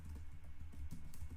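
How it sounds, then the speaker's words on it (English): Quick keystrokes tapped out on a computer keyboard while entering a pip command in a terminal, with a soft, steady run of key clicks close by and no talk. "we'll come back to our terminal and we're going to type pip freeze"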